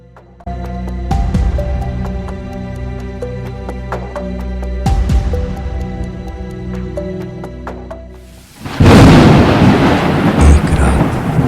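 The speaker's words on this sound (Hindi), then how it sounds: "एक रात तेज बारिश हो रही थी।" Deep thunder rolls and cracks over a musical score in a spooky Hindi cartoon horror story, then a loud burst of heavy rain and storm noise takes over near the end.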